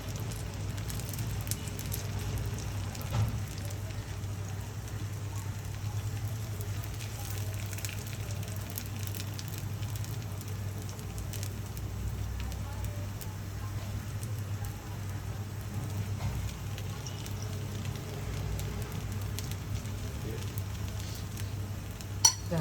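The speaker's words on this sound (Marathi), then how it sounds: "तेलावर आपण मिश्रण घालूया." Moong dal batter sizzling in oil on a pan: a steady, even frying hiss lasting throughout, moderately loud and close, with no talking over it.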